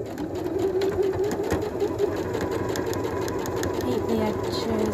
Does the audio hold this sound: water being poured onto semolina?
no